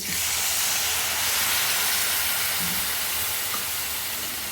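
A loud, steady rush of hissing steam fills the whole clip as water hits a very hot pan while making radish sambar, with no talking.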